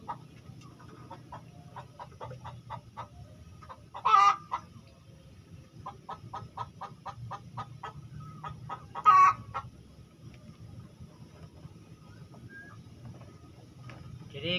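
Brooding hens, kept in care for white and green droppings, cluck softly in repeated short bursts, with two louder squawks standing out over a low, steady background hum.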